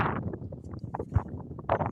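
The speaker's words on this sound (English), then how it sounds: "it's windy right now" Wind buffets an outdoor microphone in low rumbling gusts that rise and fall through the short stretch, with no speech over it.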